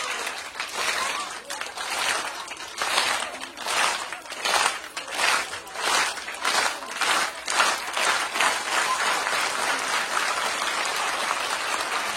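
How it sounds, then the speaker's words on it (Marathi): An audience at a women's game-show event claps together in a steady rhythm, many hands striking in even beats over a continuous crowd wash. "त्या रिदम मध्ये हात वर करून टाळी पाहिजे"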